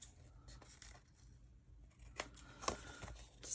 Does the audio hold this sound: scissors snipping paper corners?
yes